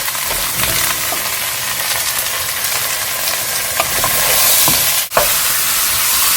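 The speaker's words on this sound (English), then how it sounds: "ये हमारी सारी पम्पकिन और वेजिटेबल्स जो है वो थोड़ी सी सौते हो गई है" Pumpkin and mixed vegetables sauté in a pan for pumpkin soup, a loud, steady sizzle with stirring scrapes and one brief dip near the end.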